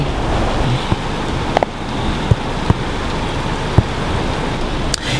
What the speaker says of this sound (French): Eh putain mais qu'est-ce qu'il pleut fort.